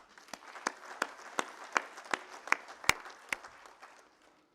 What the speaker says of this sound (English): Ladies and gentlemen, I propose that we put our hands together to applaud this effort